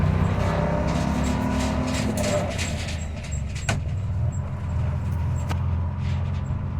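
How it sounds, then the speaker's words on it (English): An old bus pulling out of a driveway, its engine rumbling low inside the cabin while the body rattles and clunks now and then. Faint bits of talk sit under the rumble. "we're pulling out of the driveway"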